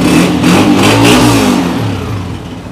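A 2023 Honda 125 motorcycle engine revs loudly and close up, rising and falling steadily for about three seconds with no talking.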